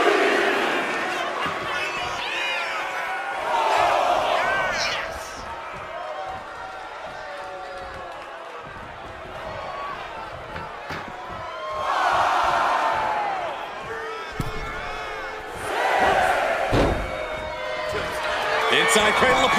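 Crowd noise in a televised professional wrestling arena, swelling in waves of cheering and shouting under continuous commentary, with louder surges midway and near the end.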